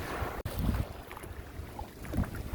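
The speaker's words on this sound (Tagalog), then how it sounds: "Lakas ang hangin" Strong gusty wind buffets the microphone with low rumbling blasts, over a faint wash of waves at the shore.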